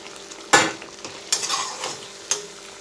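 Fried pointed gourd and green chillies tossed into a sizzling pan, with three distinct scraping stir strokes and clatter over a soft background sizzle.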